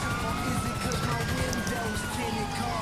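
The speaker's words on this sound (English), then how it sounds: "I can't even hear it over all the sirens!" Police sirens wail continuously through a chaotic video game chase, their rising and falling tones layered over a dense, noisy mix of engine and game sound.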